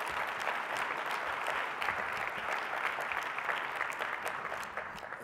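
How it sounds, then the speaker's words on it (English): Steady, sustained applause from an audience at a county State of the County address, many hands clapping together at an even level throughout. "Let's give them a round of applause again."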